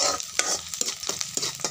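Pointed gourd, potato, okra and eggplant fry in a pan while a spatula stirs them, giving a soft, continuous sizzle broken by rhythmic scraping strokes roughly every few tenths of a second.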